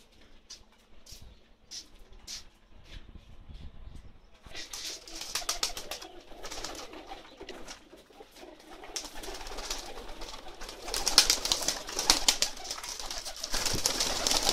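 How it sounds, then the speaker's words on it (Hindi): Pakistani high-flying pigeons kept on a rooftop coo softly and repeatedly, with bursts of fluttering wings and rustling growing busier and louder toward the end. "ये सब बाजी वाले कबूतर हैं जो ऊपर वाली छत पे रखे हुए हैं"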